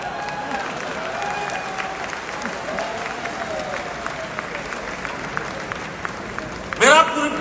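Audience clapping at a corporate 10th anniversary event, an even wash of applause running steadily beneath a voice speaking over it, ending in a sudden brief loud burst near the end.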